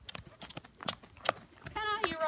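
A ridden horse's hooves thud in an uneven gait, close and fairly loud, with a person talking over the hoofbeats and a brief whinny-like tone near the end.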